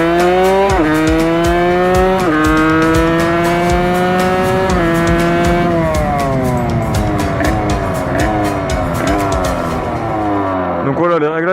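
Motorcycle engine with a badly tuned, overly rich carburettor during wheelie practice, revving hard in repeated rising and falling surges with a sputtering, crackling edge, loud and close throughout.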